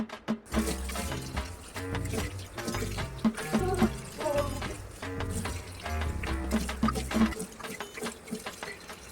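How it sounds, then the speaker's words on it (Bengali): Water splashes and runs from a tap as a face is washed at a sink, irregular close wet bursts over steady flowing water, with faint music underneath. "এবার চলো তোমাদেরকে মুখ ধুয়ে দেখাই"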